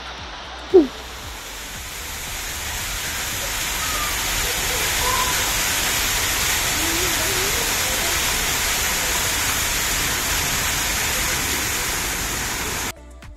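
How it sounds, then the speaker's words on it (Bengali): Water spills lightly from a cascade beside an artificial cave in Lumbini Park on Hussain Sagar lake, a steady close rushing wash that rises after a sharp knock at the start and then holds evenly throughout. "গায়ে জল পড়ছে হালকা হালকা"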